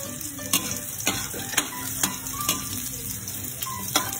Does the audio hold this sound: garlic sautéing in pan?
yes